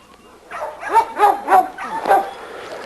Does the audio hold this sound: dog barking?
yes